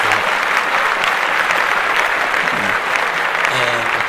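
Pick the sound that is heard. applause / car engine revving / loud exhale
applause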